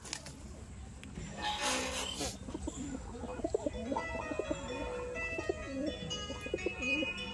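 Pet pigeons coo in low, repeated throaty bursts around a home loft, several birds overlapping in a steady murmur with occasional brighter calls over faint background noise.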